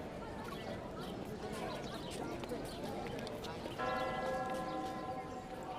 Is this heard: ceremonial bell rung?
yes